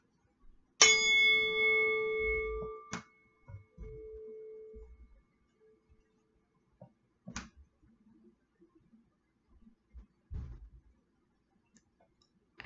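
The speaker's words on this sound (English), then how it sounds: "I'm going to ring the chime again." A meditation chime is struck once and rings out clearly for a few seconds before fading, followed by quiet scattered clicks and light knocks in an otherwise still room.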